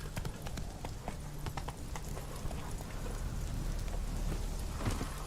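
Hooves of a galloping horse in The Witcher 3: Wild Hunt, a fast, close clip-clop rhythm over rain and distant thunder in the game world, with faint talk in the background.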